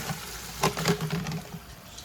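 Water trickles and gurgles steadily into a newly installed downspout drain, with a few louder splashy pulses, heard up close with no voices.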